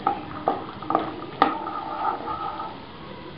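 Cashews, chopped garlic and dried red chilies get stirred in a hot pan, a soft sizzle under several scraping strokes and one sharper knock of the spoon, close and fairly quiet, no talking.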